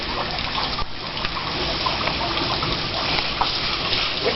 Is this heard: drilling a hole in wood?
no